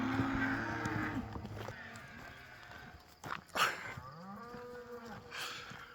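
Cattle moo loudly and close by on the Centennial Trail in open prairie country, with several drawn-out calls, one after another.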